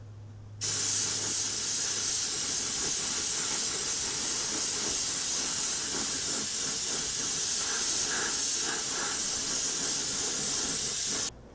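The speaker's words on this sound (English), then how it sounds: "I'm going to tint the entire model with a coat of buff color mixed with a little bit of white" An airbrush sprays a coat of buff paint mixed with a little white over a Tamiya M8 Howitzer Motor Carriage model kit, a steady close hiss that starts abruptly and holds for about eleven seconds before cutting off.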